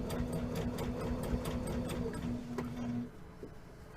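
A sewing machine stitches through several layers of a small tote bag, running in a fast steady whir for about three seconds before stopping, followed by faint handling sounds.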